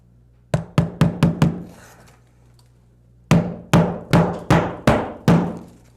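Nails hammered into asphalt roof shingles around a pipe flashing: a fast burst of five sharp blows, a pause, then six more evenly spaced loud, ringing strikes close by.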